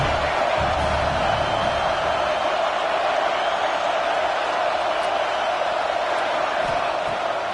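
A stadium crowd at a Georgia football game roars steadily during a big third down, a dense, loud wash of cheering that fills the whole stretch without pause.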